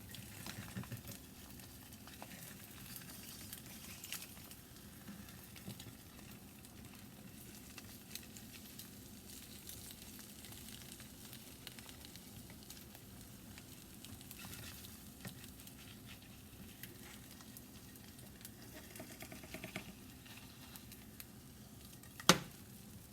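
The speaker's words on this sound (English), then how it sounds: "so we got that sizzle going" Food frying in a hot pan on a stove, a soft, continuous low sizzle and crackle running steadily for over twenty seconds, fairly quiet, with one sharp clink near the end.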